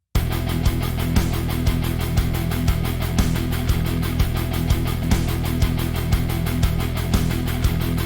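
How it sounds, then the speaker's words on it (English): Programmed MIDI metal drum groove in 12/8 with a hi-hat struck on every pulse over steady kick and low rhythm, a dense, loud, even pattern playing alone. "Let's try the simplest hi-hat groove we could do,"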